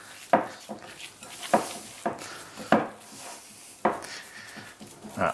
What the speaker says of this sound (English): So I'm going to mix this all up nicely.